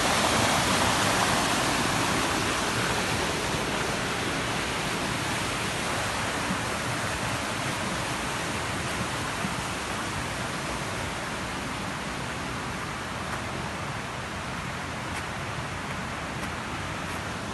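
Rushing water flowing on a rural property near Bonito in Pernambuco, a dense, continuous roar like a stream or small waterfall, steady throughout and without speech.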